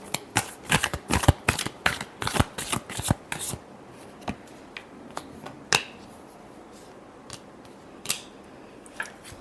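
Tarot cards riffled and shuffled by hand in close, crisp bursts, a quick flurry of sharp flutters followed by slower, scattered single snaps and taps with quiet gaps between.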